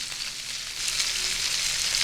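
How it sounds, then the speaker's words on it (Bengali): A steady, hissing sizzle of rohu fish frying in hot oil, continuous and close, with no voices. "মাছ হালকা ভাজা হয়ে গেছে, এবার কিন্তু তুলে নিচ্ছি।"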